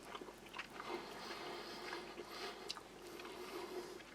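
Someone eats Chinese army combat ration seafood fried rice, with faint, soft chewing and small crunches close to the mic at low level.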